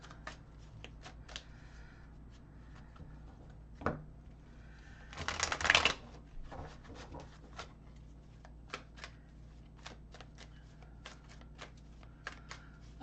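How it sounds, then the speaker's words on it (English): Two decks of tarot cards are shuffled together, giving quiet riffling and card taps in an irregular patter with one louder riffle burst in the middle. "Apparently, I'm trying to shuffle 2 different decks at once."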